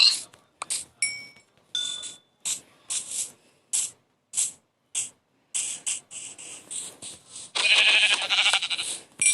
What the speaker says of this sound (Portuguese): Tem uma ovelha cinza